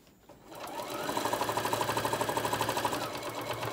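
A sewing machine stitches a fabric craft bag, starting up quickly and settling into a fast, even, close mechanical rattle that runs steadily to the end.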